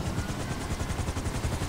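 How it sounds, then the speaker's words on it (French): A small helicopter in GTA 5 thrums with a steady, rapid rotor chop, loud and continuous with a dense whirring drone. "si on prend véhicule spawner, hélicoptère, je l'aimais bien ce petit hélicoptère"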